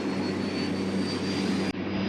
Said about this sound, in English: This is no ordinary helicopter.